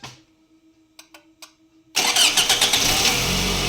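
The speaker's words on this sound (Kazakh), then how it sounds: "Қазып оталдырамыз, қарап тұрыңыз." A car engine is cranked over with a steady starter whine and a few clicks, then catches at about two seconds and roars into a loud, close, rumbling idle with a light rev.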